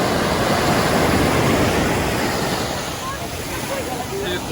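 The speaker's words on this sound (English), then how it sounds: "Why are the waves so much bigger from here?" Large ocean waves break on a beach in Spain, a broad surging wash that swells loud then eases into a softer hiss, with people talking over it.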